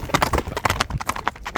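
Hooves clip-clop in a fast, steady galloping rhythm as a well-trained horse runs at full stretch outdoors, close and fairly loud, with no voices over it.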